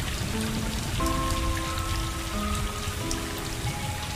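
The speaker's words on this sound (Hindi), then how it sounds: "बारिश हो रही है," Steady rain falls in the game Stray, a dense, even patter that continues throughout with no talk, while faint tonal music lines float over the wash.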